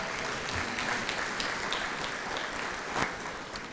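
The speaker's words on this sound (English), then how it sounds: "Round of applause for the clubs?" Audience at an awards banquet applauding the Rotary and Kiwanis clubs, a steady wash of many hands clapping together from a seated crowd indoors, sustained for a few seconds without voices.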